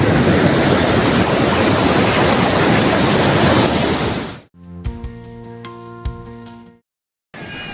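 Sea waves at Gopalpur beach roar in a dense, loud wash of surf with wind buffeting the microphone, then cut off abruptly into a brief quieter stretch with faint tones.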